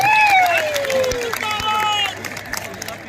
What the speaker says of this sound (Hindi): आप सभी लोग आदरणीय बहन जी का जोरदार तालियों की करताल की ध्वनि से माननीय बहन जी का स्वागत और अभिनंदन करेंगे